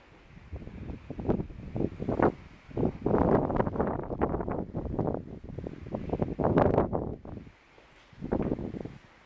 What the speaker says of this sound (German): Oh, ist ganz schön windig.